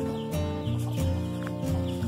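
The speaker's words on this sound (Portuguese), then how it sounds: "As galinhas, meu Deus." Chickens clucking on a rural Brazilian property, a few close, short rhythmic clucks and calls in bursts, fairly quiet and without talk over them.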